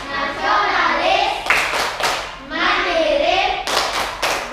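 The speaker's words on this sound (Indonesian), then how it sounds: "kita akan melakukan tepuk dan salam PPK" A class of students doing the rhythmic PPK clap, with short bursts of close, crisp hand claps that break through loud group chanting by children.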